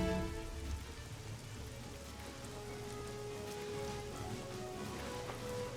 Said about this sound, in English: On a day when the rain made it impossible to see